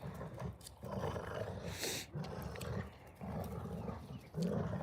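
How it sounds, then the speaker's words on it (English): Dogs growling and roaring continuously in rough play, loud and close, with a brief sharp yelp or bark partway through and no talk. "I love to see my dogs play like this."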